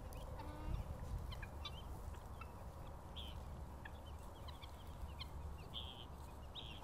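Chickens cluck and chatter softly throughout, scattered calls rising over a steady outdoor background hiss, moderately distant with no talking.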